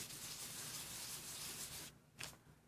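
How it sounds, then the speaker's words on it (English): A paper crafter rubs an embossing buddy powder pad over card stock before heat embossing, making a soft, continuous, close brushing hiss that stops with one last short swipe. "I'm just going to use my embossing buddy"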